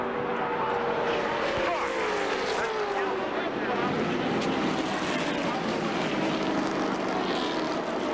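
NASCAR stock cars race at Daytona or Talladega, their engines blending into a dense, continuous roar from a pack of cars, with faint commentary beneath it.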